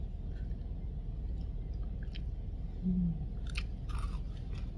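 Crunchy chewing of a spicy pounded fresh plum salad eaten with peanuts, recorded in South Korea; close, moist bites and crunches repeat unevenly over a low steady background, with no talking.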